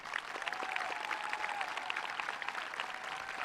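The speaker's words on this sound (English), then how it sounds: "Let's give them a round of applause." An audience applauds graduating students at a high school graduation ceremony, a dense, steady patter of many hands at moderate distance with no speech over it.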